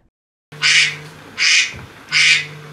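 Three loud squeaky honks from a rubber duck toy in a steady rhythm, each about half a second long, with a faint hum beneath.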